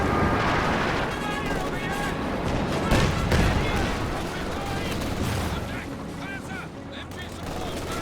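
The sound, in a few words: machine gun fire in Company of Heroes 2 (video game)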